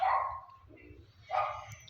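A dog gives two short barks with a pause between them, moderately close and alone without any talk.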